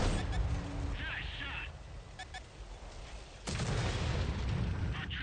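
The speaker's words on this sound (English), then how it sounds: "Why are you shooting high explosive?" A tank in a video game firing high-explosive shells: a sharp, loud blast about midway through is followed by a rumbling tail, under faint battle ambience and occasional smaller shots, while people talk.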